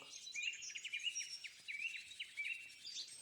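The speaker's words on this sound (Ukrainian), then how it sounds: "Сьогодні на занятті я пропоную вам послухати спів пташок." Migratory birds sing in a rapid series of thin, high chirps and trills, close and clear over a quiet background for a few seconds.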